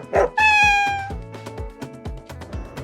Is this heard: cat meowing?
yes